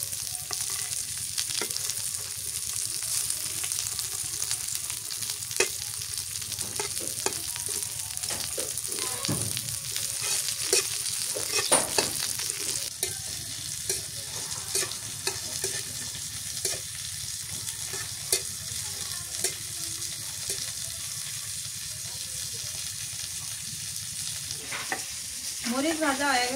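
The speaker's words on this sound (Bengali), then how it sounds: "মরিচ ভাজা হয়ে গেছে, এটা নামায় নি।" Dried red chillies fry and sizzle steadily in a pan while a spoon stirs and scrapes now and then, close and continuous, with no talking.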